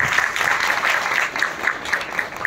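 A conference audience at a school educational event claps in a steady, moderately loud round of applause that carries on evenly for a couple of seconds without speech.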